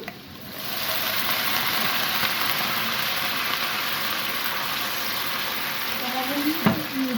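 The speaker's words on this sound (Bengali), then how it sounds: "আমি একটু পানি দিচ্ছি," Water hitting a hot pan of chickpeas and green chilies for a spiced chickpea dish sets off a loud, steady sizzle. It holds nearly unbroken for several seconds, close up and with no talk over it.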